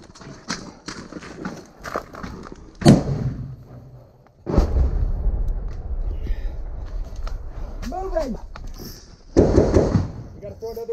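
A frag grenade goes off in close-quarters combat with a sharp, heavy blast followed by a rumbling roar, with shouting men and other loud bangs around it.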